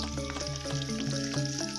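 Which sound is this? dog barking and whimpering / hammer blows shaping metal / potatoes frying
potatoes frying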